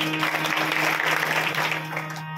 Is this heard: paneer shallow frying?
no